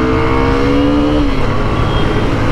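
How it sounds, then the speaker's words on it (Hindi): Dense heavy road traffic heard while riding a Hero Xtreme 125R motorcycle, a loud continuous engine roar and rumble close by, with no talk. "ट्रैफिक बहुत ही ज़्यादा हो रहा है, हद से ज़्यादा ट्रैफिक हो रहा है भाई"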